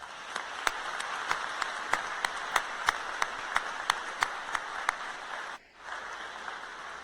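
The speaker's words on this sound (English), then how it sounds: "Please give them a round of applause." A high school graduation audience applauds in a hall, a busy hiss of many hands with a single sharper clap standing out at a steady beat, then cutting off abruptly before a quieter tail.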